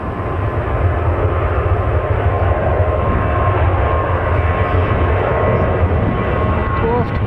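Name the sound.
Ryanair Boeing 737 passing at Manchester Airport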